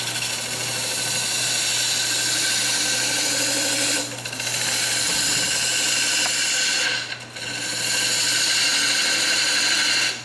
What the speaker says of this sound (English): Try the gouge again, cutting against the grain.